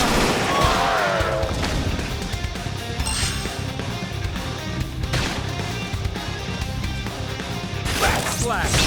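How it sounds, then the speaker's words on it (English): Gunfire and combat impacts in the video game Xenoblade Chronicles X, a dense stream of bangs and crashes layered over music and effects, with a voice heard between the hits. "Now, topple them with some gunfire."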